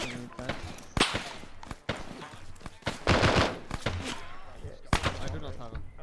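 Rapid gunfire at target practice, sharp loud cracks in irregular bursts and single shots spread across the moment, with voices talking in between.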